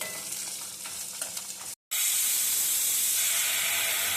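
Horsegram sprout masala fries in a pan with a steady, loud sizzle and hiss, briefly cut off, then resuming as a brighter, more intense crackling sizzle close by.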